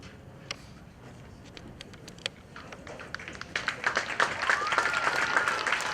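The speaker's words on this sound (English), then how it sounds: "please join us in a round of applause for these veterans" An audience at a veterans' ceremony starts clapping with a few scattered claps that grow into steady, moderately distant applause.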